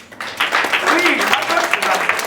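Congregation at a Sunday church service breaking into applause, a broad wash of clapping rising after a brief quiet start and holding steady, mixed with voices.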